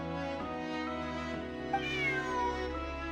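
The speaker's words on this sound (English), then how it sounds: "Bonnie is Pierre's cat" A cat meows in the video game Genshin Impact, a single drawn-out, bending meow over sustained in-game music.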